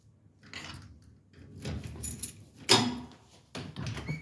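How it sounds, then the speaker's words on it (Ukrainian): The door of a small neighbourhood shop is unlocked and opened, with keys jangling, a latch clicking and a sharp knock of the door, set among rustling and footsteps and heard close up. "відкрили двері і заходимо"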